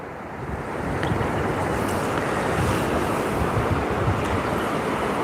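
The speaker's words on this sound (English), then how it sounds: "the wind's picking up" Strong wind rushes past the microphone beside the water during a rainbow trout fishing trip, a loud, continuous roar that rises within the first second and then holds steady, with no voices.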